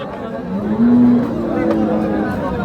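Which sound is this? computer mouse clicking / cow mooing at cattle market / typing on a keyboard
cow mooing at cattle market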